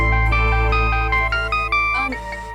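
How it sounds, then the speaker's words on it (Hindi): A mobile phone ringtone chimes a repeating melodic pattern from inside a purse over a steady low hum, with brief voice sounds near the end. "फोन तुम्हारे पर्स में बज रहा है।"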